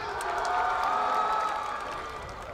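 A concert crowd at a university campus performance applauds and cheers, a steady distant wash of clapping and shouting voices lasting throughout at moderate level.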